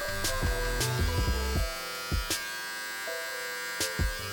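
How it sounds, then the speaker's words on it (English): Electric hair clippers with the guard closed cut a guideline under the temple during a home taper haircut, buzzing close and loud in short strokes, with sharp interruptions and pauses as the clippers move through the hair. "You're making a guideline about a ½ inch thick with the clippers closed."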